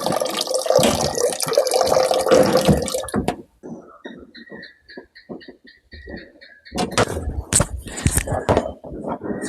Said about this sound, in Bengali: এটা ভাবে জলটা আমাদের স্টেনলেস স্টিলের 10 লিটার ট্যাঙ্কে জলটা ভর্তি হচ্ছে